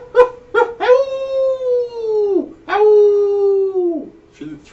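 A didgeridoo imitates a dingo: two short barking blasts, then two long sliding howls that rise and fall back down, loud and close, ending with a brief low grunt.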